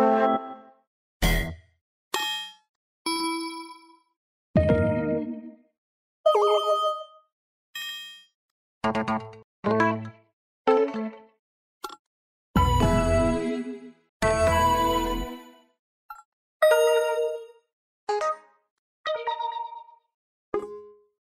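A series of short, distinct Windows 7 Characters scheme system chimes and tones, about a dozen and a half, each separated by silence, some bright and bell-like, others low and buzzy.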